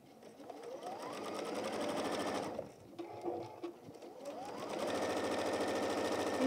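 A sewing machine stitches a 1/4 inch seam along a folded scarf for a Tilda goose toy, running in two steady bursts of rapid mechanical whirring, close and alone, with a short pause between.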